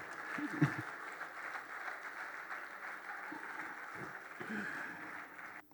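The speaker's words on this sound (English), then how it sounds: "I believe that deserves a round of applause." Faint, distant applause from an audience at a formal speaking event, a soft, even hiss of many hands clapping that holds steady for several seconds, with a few low thumps and murmurs underneath before it cuts off.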